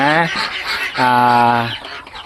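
Two-month-old domestic chickens cluck and call up close, with two drawn-out, tonal squawks separated by a short pause and softer clucking around them.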